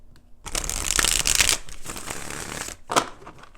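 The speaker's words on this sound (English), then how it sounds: "let's go ahead and do 4 shuffles" Tarot cards riffled and shuffled by hand in a quiet room, a dense crisp flutter lasting about a second, then softer shuffling and a second short burst of cards near the end, all close and fairly quiet.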